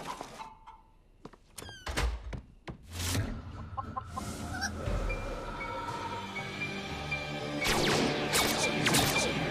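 Hen clucking in a French-dubbed cartoon, a series of short clucks and squawks with thuds and crash-like effects, growing busier and louder toward the end.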